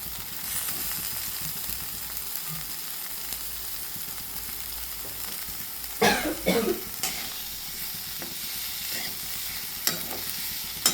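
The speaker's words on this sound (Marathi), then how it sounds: "उकडलेले 3 बटाट्याचे जे काप केलेले आहेत ते टाकूयात आणि पुन्हा सर्व व्यवस्थित मिक्स करून घेऊयात" Boiled potato slices are mixed into a potato chutney in a hot pan: continuous close stirring and scraping over a gentle frying sizzle, with a few short cough-like bursts in the middle.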